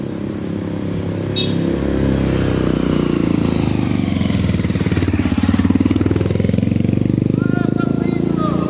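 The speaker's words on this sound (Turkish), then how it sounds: "motor sesinden dolayı" A motorcycle-like motor engine runs loudly on a city street in Brazil, a rough steady drone close by that rises and falls in pitch, with voices underneath.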